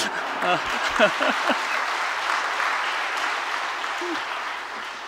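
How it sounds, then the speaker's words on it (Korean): A church congregation claps during a Sunday sermon, a moderate patter of applause mixed with a voice speaking and laughing over it, fading toward the end. "뭐 박수까지"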